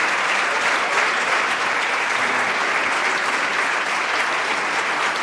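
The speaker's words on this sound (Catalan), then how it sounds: "Els aplaudiments que senten són dels seus col·laboradors més pròxims" Sustained applause from a crowd of close collaborators greeting a departing president, steady and dense from start to finish with no pauses.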